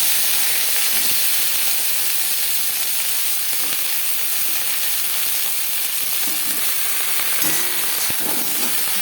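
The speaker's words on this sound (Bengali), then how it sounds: "এবার দিয়ে দেবো ভেন্ডি।" Okra frying in a spoonful of hot mustard oil, a steady loud sizzle and hiss that continues throughout with scattered small pops and crackles, no voices.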